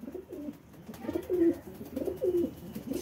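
Pigeons cooing close by, several soft, throaty coos repeating in a loose rhythm over faint background noise.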